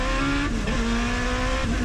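A Smart Car fitted with a Hayabusa motorcycle engine revs hard and climbs in pitch, a loud continuous whine with a brief dip between rising pulls, heard up close.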